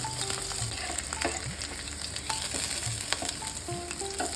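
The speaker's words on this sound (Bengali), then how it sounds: "তারপর দিয়ে দিলাম রসুন কুচি" A continuous close sizzle of chopped garlic and chili frying in oil, with frequent crackling pops and faint scraping, steady in level throughout.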